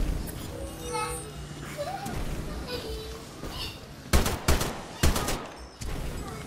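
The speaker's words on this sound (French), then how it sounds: "il me semble que c'est une mitraillette lourde" Heavy machine gun firing in the video game Titanfall 2, with short loud bursts near the end over a steady bed of game sound and a voice talking earlier.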